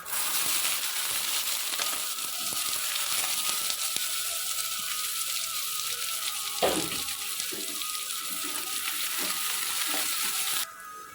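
Chopped onions sizzle in hot oil with panch phoron for an Odia jagar fish curry. A steady, loud frying hiss runs throughout with occasional stirring scrapes and clinks, and no talk.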